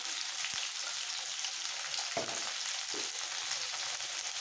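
A continuous soft, moderately quiet sizzle comes from ripe jujube chutney frying in a pan as salt is added, broken by a few brief clinks and a short knock.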